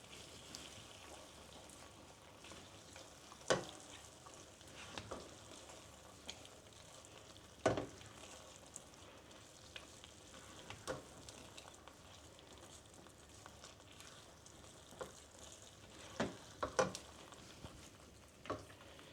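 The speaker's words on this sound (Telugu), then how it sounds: "దీని మీద నెయ్యి కొంచెం వేసుకొని కలుపుకుంటాను" Ghee being stirred into pineapple rava kesari in a pan, a soft continuous sizzle with occasional spoon scrapes and knocks, quiet and close.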